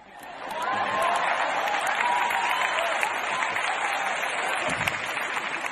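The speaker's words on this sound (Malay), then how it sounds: "Satu lagi tepukan gemuruh bagi saya." Steady applause from a comedy show audience swells up after a brief moment and holds at an even level for several seconds, a dense uninterrupted clapping crowd.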